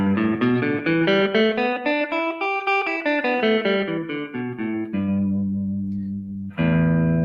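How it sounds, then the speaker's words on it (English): A guitar runs up and back down a five-note pentatonic scale in quick, even single notes, then holds a few sustained notes with a short pause before the last. "a pentatonic scale, by the way, sounds like this."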